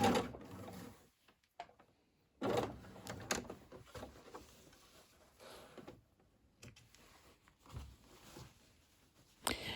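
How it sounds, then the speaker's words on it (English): A sewing machine stitches the side seam of a tote bag in several short bursts of quiet mechanical whirring, separated by pauses and soft handling of the fabric. "Now I'm sewing the other side."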